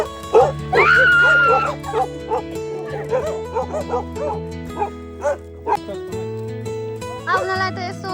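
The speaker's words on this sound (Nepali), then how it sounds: "भुक्दो रहेछ है नभुक न त्यसरी" Dog barking and yipping at a campsite in Australia, a few sharp close barks followed by whimpers and softer yelps, with people talking over it.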